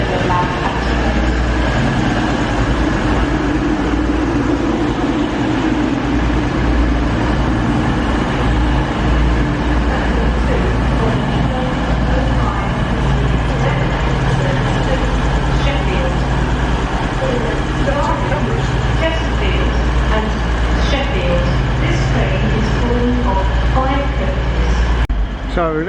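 An East Midlands Railway train rumbling past close by, a steady loud roar with low mechanical drone and wheel clatter lasting throughout.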